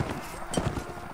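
Quick, muffled hoofbeats of cavalry horses in the game Mount and Blade Warband clatter in a rapid galloping rhythm, close and moderately loud, with a faint murmur behind.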